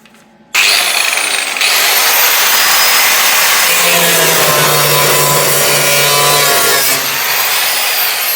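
A power saw cuts through the steel sill panel of an HQ GTS Coupe, starting abruptly and running loud and steady for several seconds with a shrill metallic whine before stopping, close up with no talk.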